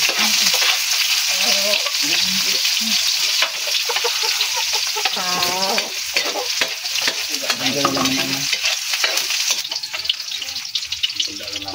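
Onion sautéing in a pan, a loud continuous sizzle with scraping stirring strokes throughout, and a voice briefly heard over it.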